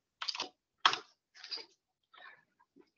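A handful of computer keyboard keystrokes are heard close and faint, tapped in an uneven, halting pattern with gaps between them.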